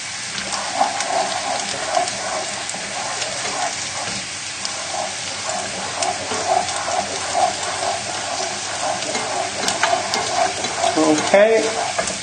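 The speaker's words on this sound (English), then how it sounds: "And then we just want to shake around the carrots." Carrots sizzle and fry in a hot pan as they are shaken around, giving a continuous loud hiss and crackle with rattling movements and a brief clatter near the end.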